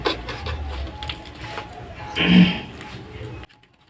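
An old electric water pump motor at a tube well, left unused for ten years, runs with a steady mechanical drone and a brief louder surge, then cuts off abruptly near the end.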